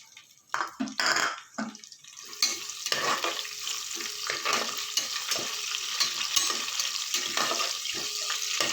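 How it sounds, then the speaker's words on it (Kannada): Green chillies fry in hot oil with whole spices for an egg biryani, a steady broadband sizzle with a few louder clatters and stirring knocks near the start, then an even, continuous crackle. "ಮೆಣಸಿನ್ಕಾಯಿ ಈ ಎಣ್ಣೆಲಿ ಫ್ರೈ ಆಗ್ತೈತೆ"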